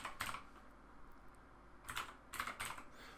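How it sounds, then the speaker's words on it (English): Typing on a computer keyboard, close and clear: a short burst of key clicks, a pause, then several more quick bursts of keystrokes. "start typing state machine"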